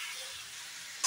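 Boiled dal and potato tipped into a hot frying pan, a steady soft sizzle and hiss throughout that flares briefly louder at the end.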